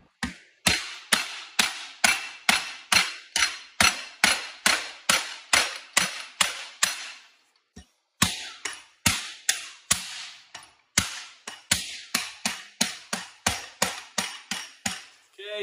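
A rubber mallet strikes the edge of a sheet metal panel clamped for hammer forming, delivering a long series of evenly spaced, loud, close thuds. A short pause breaks the run before the steady blows resume.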